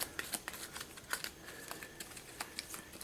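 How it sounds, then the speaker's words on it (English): A deck of Pathfinder adventure game cards being shuffled by hand, giving quiet, rapid papery riffles and snaps in irregular bursts, close and soft with no talking. "we shuffle it again, so we don't know when they'll show up"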